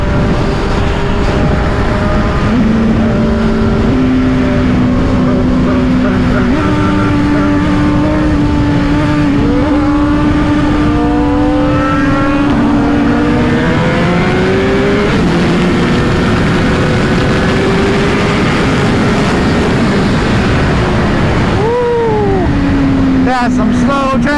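A Suzuki GSX-R1000 sport bike engine pulls hard while riding, climbing in pitch through the gears with clear upshifts, over heavy, steady wind rush.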